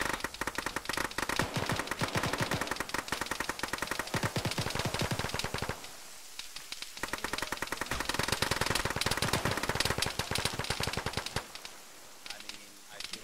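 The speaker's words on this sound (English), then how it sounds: "There's so much gunfire." Heavy automatic and rifle fire rattles almost nonstop in an Arma military game, dense rapid bursts with brief lulls, loud and close throughout.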